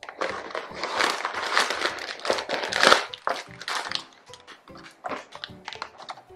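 A heavily taped package for a Yummy Nummies donut toy kit is pulled open at a kitchen table, giving a close run of sharp crinkling, tearing and rustling bursts with short pauses between them.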